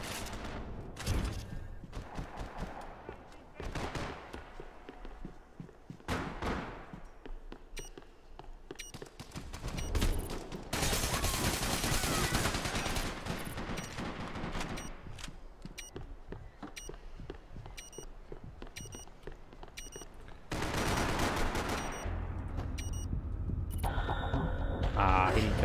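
Dual pistols fire in a Max Payne 3 multiplayer match as repeated bursts of rapid gunshots in clustered volleys, separated by quieter gaps with game background noise and some talk.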